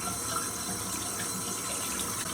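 Steady rush of running tap water while a dense makeup brush is rinsed under it, close and continuous for a couple of seconds.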